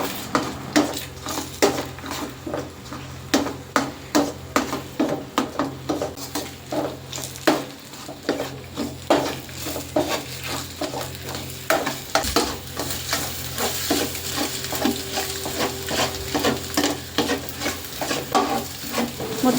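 Egg is stir-fried with vegetables in a pan for egg fried rice, a continuous sizzle under rapid, rhythmic clanks and scrapes of a metal ladle against the pan, close and steady throughout.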